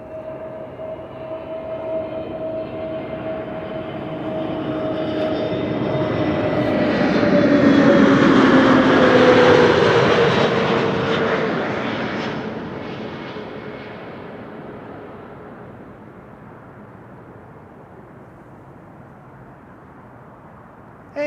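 An airliner registered G-UZHT, about six years old, lands at Amsterdam Schiphol after a flight from London Luton. Its jet roar swells as it approaches, peaks loud at close range with a descending whine, then fades slowly into the distance.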